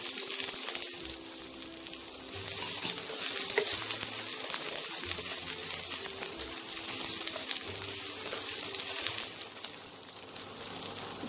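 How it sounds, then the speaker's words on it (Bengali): Chopped garlic and onions sizzle in a pan over a medium flame, a loud continuous frying hiss. Stirring scrapes and clinks break in now and then, and no one speaks. "পেঁয়াজটা আমার হালকা ভাজা ভাজা হয়েছে, এবার আমি রসুন কুচিটা দিয়ে দেবো।"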